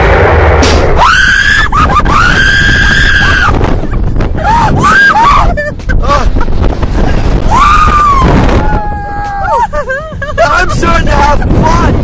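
Young man screaming on a Slingshot amusement ride, loud repeated high-pitched yells over heavy wind rush and crowd noise.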